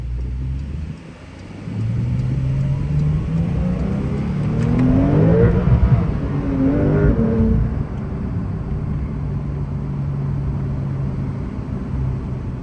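A 2024 Porsche 911 Turbo S with its 3.7-liter engine, heard from inside while driving in Sport Plus: a steady engine drone that swells into a revving climb midway, then settles back to a smooth cruise.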